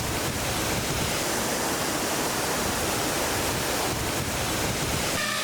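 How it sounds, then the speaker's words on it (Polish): Steady, loud rush of falling water with a broad hissing roar, continuous throughout, from the Almibach mountain stream and its waterfalls cutting a rock wall at Kandersteg in the Alps. "Almibach to górski potok znany z 4 wodospadów"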